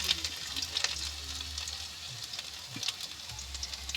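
Chopped ginger and garlic frying in a kadai make a continuous close sizzle with light stirring scrapes and small pops over a low hum, no one talking.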